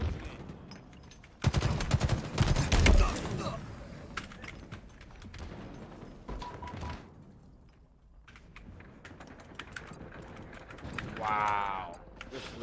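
Gunfire in Halo Infinite multiplayer: a loud burst of rapid shots early on, then sparser clicks and scattered shots at lower level, with brief voices near the end.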